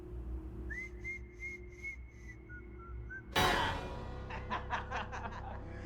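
The jaunty whistled tune from the 1928 Steamboat Willie cartoon, a string of clear short whistled notes in a bouncy rhythm, followed by a sudden loud noisy burst and rapid clattering sounds.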